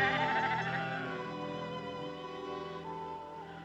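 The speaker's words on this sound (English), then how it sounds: "Then the water hole dried up, and the sheep cried again." A sheep bleats in a long, wavering, drawn-out cry, loud and close, with a second voice blending in partway through in a dry Navajo desert setting.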